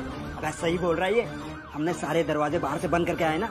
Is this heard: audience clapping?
no